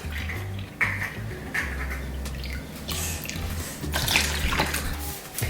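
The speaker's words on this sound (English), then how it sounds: "we're gonna add in 1 cup of milk" Milk is poured into a mixing bowl in a home kitchen, a soft liquid splash and gurgle up close with some light clatter and no one talking.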